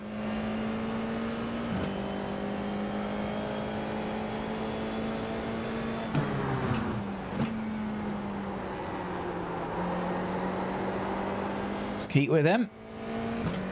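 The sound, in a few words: racing cars' engines in a video game race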